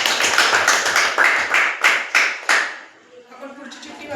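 Classroom applause for a student at a primary school, a burst of brisk, near clapping from a group of children for about three seconds that quickly dies away into quieter room noise.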